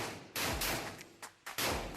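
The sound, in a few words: gunshot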